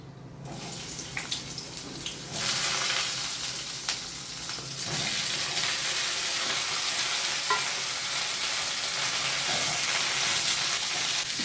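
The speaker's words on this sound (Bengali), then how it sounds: "এখন ওই তেলেই দিয়ে দিচ্ছি সামান্য কালো জিরে দিয়ে আমি ঝিঙাটা আগে দিয়ে দেব" Ridge gourd and nigella seeds hit hot oil left from frying fritters, bursting into a loud, steady sizzle that swells after a quieter start and holds strong throughout, with no voices.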